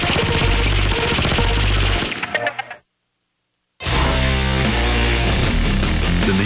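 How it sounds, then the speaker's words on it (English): A German MG-42 machine gun fires loud, dense bursts at close range, cutting out briefly into silence before another sustained burst of rapid fire. "But the MG-42 also set the standard for the modern machine gun"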